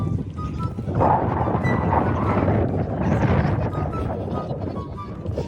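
Constant low rushing wind buffets the microphone, a dense roar with no pauses, loud and close throughout.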